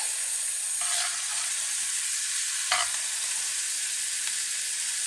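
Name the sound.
stirring chopped ham with black-eyed peas in a pot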